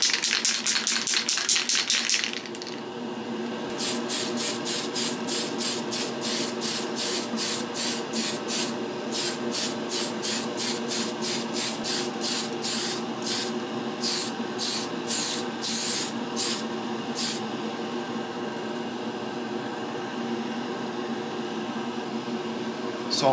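An airbrush sprays paint onto an SU-35S Flanker scale model, a steady hiss with a brief continuous burst followed by a long series of short, rhythmic spray pulses over a constant compressor hum.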